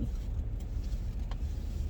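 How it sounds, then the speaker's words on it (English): Steady road traffic rumbles past in a continuous low roar, with cars going by close at hand and no clear pauses. "why is there so much traffic here?"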